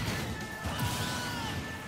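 Super Smash Bros forward smash attack hitting: a short, dense crash and whack amid busy game sound effects, loud and continuous for under two seconds.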